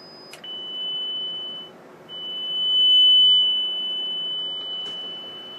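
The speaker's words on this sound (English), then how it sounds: "We're essentially feeding a signal into the grid of the 6BQ5 audio output tube" A steady test tone fed into the grid of the 6BQ5 audio output tube of an 11L43 radio chassis, heard as a continuous beep with a short break, over a faint hum. A brief click sounds near the start and near the end.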